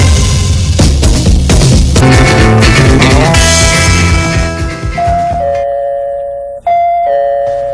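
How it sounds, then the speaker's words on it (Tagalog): A doorbell rings out loudly, its chimes layered over music in a Bisaya drama, the tones ringing on and repeating toward the end. "Uy, may nag-doorbell man day?"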